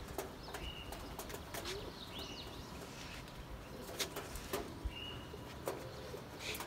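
Domestic pigeons coo softly in a loft, with several low, rolling calls over faint background hiss, scattered brief chirps and a few light clicks or wing flutters, all fairly quiet and without speech.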